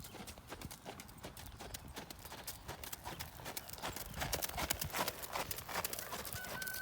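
Hooves clip-clop in a steady rhythm as a horse works through half circles with changes of rein in a riding lesson, fairly faint and distant, with some faint background noise and no clear talk.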